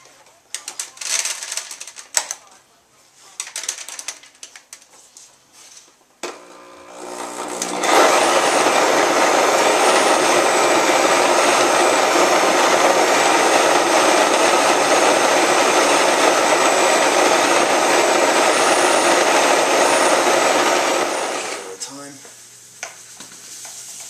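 A grain mill crushes malted grain for all-grain brewing of an Extra Special Bitter, a loud, steady grinding roar lasting about fourteen seconds, bracketed by handling clatter and brief sounds before and after.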